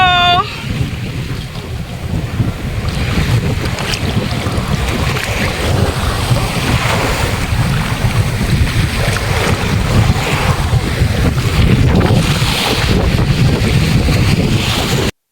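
Strong ocean waves pound the shore at Patar Beach in Bolinao, a continuous heavy wash of surf mixed with gusty wind buffeting close, with faint voices.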